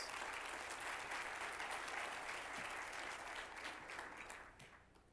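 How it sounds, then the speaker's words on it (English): Crowd at a media leadership dinner claps in sustained applause that holds steady, then tapers off toward the close. "So give yourself a round of applause."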